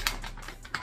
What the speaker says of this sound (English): I'm gonna be very careful with the scissors